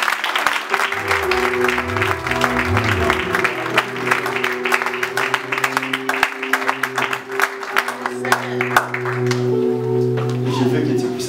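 Church congregation applauding and cheering, dense continuous clapping with shouts, while a preacher's amplified voice talks over it throughout.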